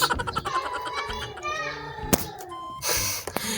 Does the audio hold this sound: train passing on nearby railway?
no